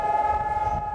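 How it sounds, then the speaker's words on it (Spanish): A commemorative siren sounds as one steady, sustained tone, held at an even level for the whole second with no talk over it. "Sirenas conmemorativas en un lado"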